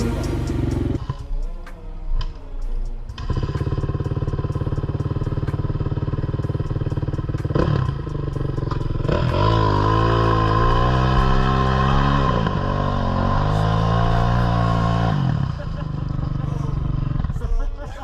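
Enduro motorcycle engines roar and rev hard while riding through a swamp, with a sustained loud drone that swells and falls in pitch, under shouting voices.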